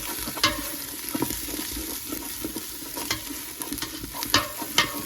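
Chopped garlic and onions sizzle steadily in a hot pan, with repeated scraping and clacking of a utensil stirring them at irregular intervals over the constant frying hiss.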